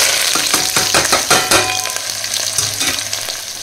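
Onions tipped into hot oil with fennel seeds for a goat head curry, a loud close sizzle with repeated scraping stirs and crackling bursts, no voices.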